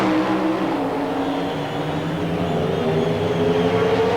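A Pro Stock Oldsmobile drag car, Warren Johnson's AC Delco entry at the 1992 NHRA Keystone Nationals at Maple Grove, roars down the strip with a loud, sustained engine blare and shifting pitch, alone without talk.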